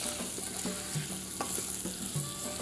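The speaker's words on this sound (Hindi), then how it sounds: "इसको जल्दी से तलें" Thick-chopped pumpkin slices frying in hot oil with crushed red chili and salt: a continuous close sizzle with scraping stir strokes at a regular pace, and no voices.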